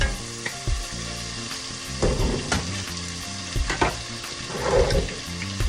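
Meat sizzling and frying in a pan, a steady crackling hiss with occasional stirring scrapes and pops, close and moderately loud with no talking.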